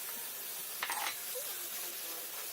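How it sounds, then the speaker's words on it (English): Minced meat frying in a pan with ground cinnamon, cloves and pepper: a soft steady sizzle with a brief scrape of stirring, faint and close. "we're going to fry the mince for at least 1 whole minute"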